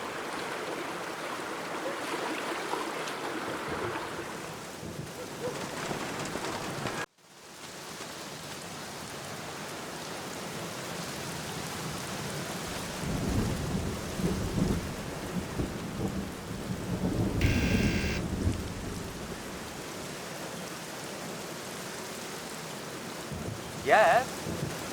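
Steady rain falls with rumbling thunder rolling through, in a stormy scene from The Black Mirror video game, continuous and moderately loud with a brief cut partway.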